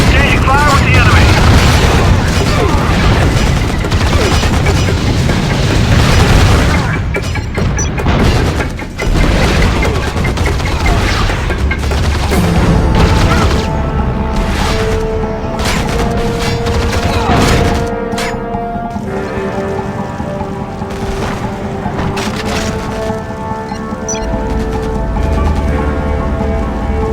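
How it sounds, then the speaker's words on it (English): Gunfire and explosions from the Act of War combat video game: a continuous loud barrage of booms and rapid shots, thinning into scattered blasts under a game soundtrack, with voices heard over the battle. "Going on board, exchanging fire with the enemy."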